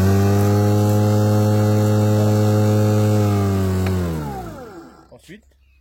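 A Stihl battery lawn mower runs with a loud, steady electric hum close by, then spins down and falls silent after a few seconds, followed by a couple of faint handling knocks.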